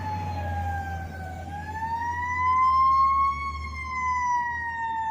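A paramedic vehicle pulls out of a fire substation on the Las Vegas Strip, its siren wailing loud and steady, rising and falling in pitch over a low rumble of street traffic.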